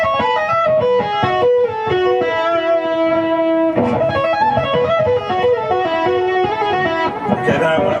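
An electric guitar plays a fast tapping run with slides and pull-offs, the notes ringing bright and sustained through effects, loud and up close, with quick cascading phrases and no talking.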